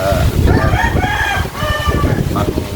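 Backyard chickens raised for eggs, with a rooster crowing repeatedly over steady clucking and flock noise, loud and close throughout.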